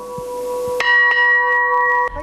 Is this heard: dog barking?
no